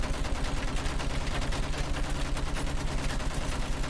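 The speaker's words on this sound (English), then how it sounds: "I guess I'll shoot down this American bomber." Rapid, continuous gunfire aimed at an American bomber in Battlefield 1, a steady, loud mechanical rattle of shots with an even rhythm that never pauses.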